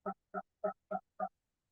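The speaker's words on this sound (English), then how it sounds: "So glad I have my ducks" Ducks give five evenly spaced, loud honking calls in quick rhythm, close by and alone with no talk over them.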